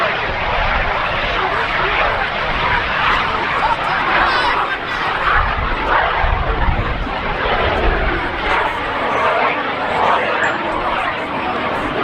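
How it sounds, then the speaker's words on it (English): Mini jet aircraft, about 16 feet long and weighing 500 pounds, on its takeoff roll at a military airbase airshow, a loud continuous engine roar filling the scene with crowd chatter underneath. "Right now, takeoff roll, Tom Larkin in mini jet AIRSHOWs."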